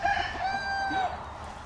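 A rooster crows once in a chicken coop, a drawn-out call rising and then falling, with other chicken sounds faintly around it.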